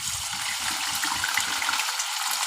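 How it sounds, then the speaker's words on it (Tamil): Paneer cubes fry in hot oil for a Shahi Paneer white korma, giving a steady, dense sizzle and crackle close by with no pause. "பன்னீரை இந்த ஆயிலில் போட்டு லேசாக வறுத்துக்கலாம்"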